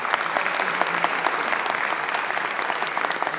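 Steady applause from an audience at the 12th forum, thanking the organizers, with dense overlapping claps holding at an even level for the full stretch.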